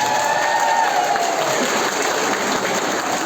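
A crowd at a Navruz 2023 celebration concert bursts into steady, dense applause that fills the hall evenly for a few seconds, with no voices rising above it.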